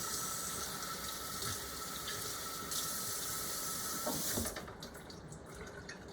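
Drained ground beef being rinsed under a running kitchen tap, a steady faint rush of water into the sink that drops off sharply near the end.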